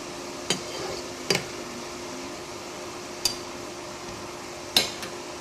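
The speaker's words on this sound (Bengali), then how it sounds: "এই পর্যায়ে আমি ঢাকনাটা তুলে একটু নাড়াচাড়া দিয়ে উল্টে পাল্টে দেবো" Pot lid lifted and greens with beans (flat beans and pea-shoot greens) stirred in a home kitchen, heard as a few sharp metallic clinks and scrapes spaced across a quiet background hum.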